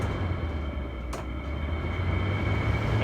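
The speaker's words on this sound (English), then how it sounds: "Here's high fan." An HVAC unit's fan motor runs on its high setting, giving a steady, loud mechanical hum and drone with a low rumble throughout, close by and with no talk.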